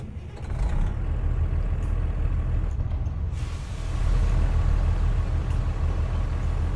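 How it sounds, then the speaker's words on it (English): A Kenworth truck engine in American Truck Simulator drones with a steady low rumble, a hiss like an air brake near the three-second mark, then the engine swells louder toward the end. "So that's what the truck sounds like."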